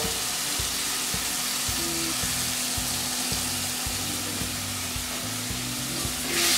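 Tomatoes and salt frying in a pot in Malawi, a steady hiss of sizzling with regular scraping knocks from a spoon stirring in a slow rhythm throughout, no talking.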